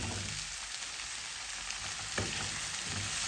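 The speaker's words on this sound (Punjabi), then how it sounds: "ਆਲੂ ਨੂੰ ਚੰਗੀ ਤਰ੍ਹਾਂ ਮਿਕਸ ਕਰਕੇ ਆਪਾਂ 3-4 ਮਿੰਟ ਲਈ ਭੁੰਨ ਲਵਾਂਗੇ" Potatoes and onions frying in a pan, with a steady broadband sizzle throughout, a few soft stirring scrapes and one sharper knock near the two-second mark, no voices.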